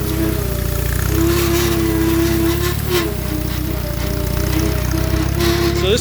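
An Allis Chalmers WD tractor that had sat idle for years runs steadily nearby, a loud, constant engine drone with a whining harmonic that rises and dips slightly throughout.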